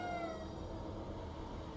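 Faint, drawn-out cat meow from a stray in the video game Ghostwire: Tokyo, heard low against a steady background hum.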